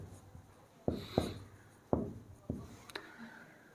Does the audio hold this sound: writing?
yes